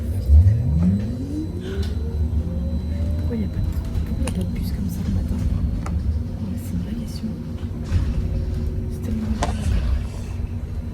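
A bus drives along with a steady mid-low engine hum and rumble, a rising whine as it accelerates at the start, and faint clatter throughout from inside the vehicle.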